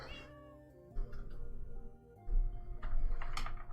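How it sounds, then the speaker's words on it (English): A cat meows in the Minecraft video game, a few drawn-out, wavering mews close by over a soft background of ambient game sounds and light clicking. "There's another cat running around, but I don't have any fish, so I can't catch that one."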